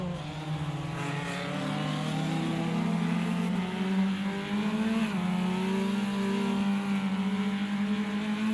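An MRX Honda P3 race car engine in Automobilista 2 revs steadily at high pitch on a damp track at Ibarra, holding a sustained drone with slight dips and rises, loud and continuous with no talk.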